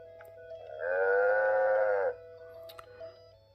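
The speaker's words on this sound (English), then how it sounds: "The cow makes the sound." A toy cow moo plays from a VTech Little Apps Light-Up Tablet, one drawn-out electronic moo of about a second, loud and close over a faint hum.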